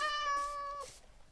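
A cat in the Minecraft video game meows once, a clear drawn-out tonal call that rises and then breaks off, followed by near silence.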